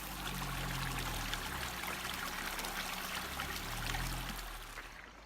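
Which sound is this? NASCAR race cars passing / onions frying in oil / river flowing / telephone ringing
river flowing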